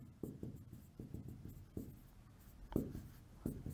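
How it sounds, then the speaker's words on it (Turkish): Marker or chalk strokes on a classroom board: a steady series of close, soft tapping and scraping strokes with brief pauses, heard alone. "Şimdi gelin abi 2021 sorusunu yazacağım tahtaya."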